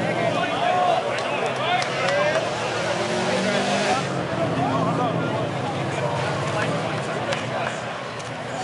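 A station wagon's exhaust revs loudly and continuously at a car meet's exhaust competition, a dense rumbling roar with rising and falling throttle that fills the whole stretch, crowd noise faintly beneath.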